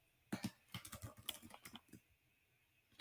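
Typing on a computer keyboard: a quick burst of close, loud key clicks in an uneven rhythm for about two seconds, then a pause before a few more keystrokes start at the end.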